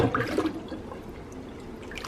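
A fabric dress is pushed into water for tea dyeing, giving a brief burst of sloshing and splashing that quickly fades into quiet trickling and faint dripping, close by.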